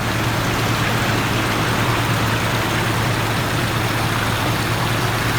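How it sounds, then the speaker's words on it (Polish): Rainwater rushing loudly through a roadside ditch on Gozo, Malta, during intense rainfall, carrying plastic bottles and styrofoam debris, a constant, unbroken roar of water with no pauses. "to jest tylko taki rów, gdzie właśnie w przypadku takich intensywnych opadów płynie woda a z nią to."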